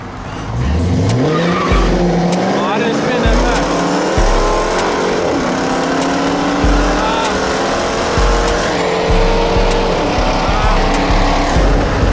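A Dodge R/T car spinning donuts, its engine revving hard and steady while the tires skid and squeal continuously at close range, with people talking over the noise.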